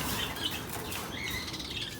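Fluttering parakeet wings beat in quick bursts close by as the birds are moved, mixed with faint high chirps and a rustling background.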